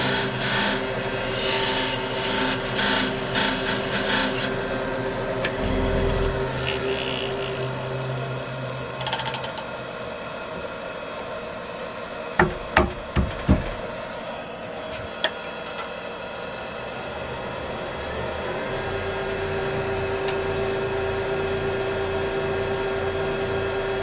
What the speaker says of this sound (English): Now using a parting tool to cut down to the tenon size